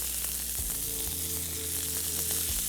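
Chicken frying in a pan with salted butter, a steady close sizzle and crackle running throughout with faint stirring scrapes, no voices.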